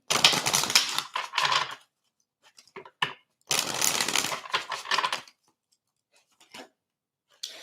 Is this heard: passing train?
no